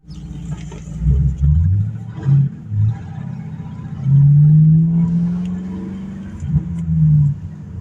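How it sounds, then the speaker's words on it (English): A 2006 Ford Mustang GT S197 with a five-speed and its mufflers removed rumbles loud and deep, its idle swelling into a few throaty revs and settling back down. "It's got a nice little rumble to it. No mufflers, they just took them off."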